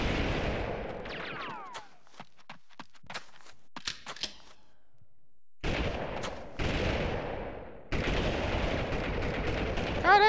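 Sharp gunshots in the PS1 game Army Men 3D crack in bursts, with scattered single shots between louder sustained volleys of rapid fire, close and punchy with a game-like quality.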